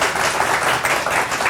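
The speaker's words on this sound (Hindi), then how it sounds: "ये इस बात के लिए इनको एक ताली बनती है" A crowd claps together for a guest on an Independence Day event stage, a dense, loud, continuous burst of applause.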